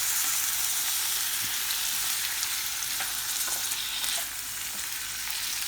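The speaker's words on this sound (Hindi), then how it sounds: "इसको हमने फ्राई किया है और अब हम इसमें चिकन डाल देंगे।" Chicken pieces frying in a hot pan for spring roll filling, producing a loud, continuous close-up sizzle that stays steady throughout, with faint crackles and no speech.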